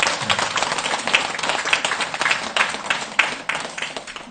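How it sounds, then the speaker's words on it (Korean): An audience claps steadily through a Buddhist dharma talk at a temple service, a dense, even patter of many hands with a few sharper slaps standing out. "박수 치고"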